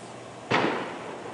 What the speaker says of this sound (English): Gunfire and loud bangs could be heard throughout the night